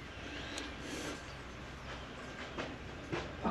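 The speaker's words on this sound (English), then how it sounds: "It's a freight train coming." A freight train passes somewhere outside, beyond the road from an abandoned cottage, as a faint, steady rumble with a few soft clanks and screeches on top.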